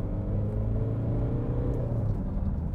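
A steady, low engine drone runs throughout, a Ford Kuga EcoBlue diesel SUV motoring along with constant rumble and no pauses.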